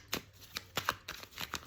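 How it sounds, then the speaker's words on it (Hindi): Tarot cards are shuffled close by in several quick riffling bursts, soft, crisp and rhythmic, over a quiet background. "फाइनल कार्ड शफल करके रीडिंग को क्लोज करते हैं फिर।"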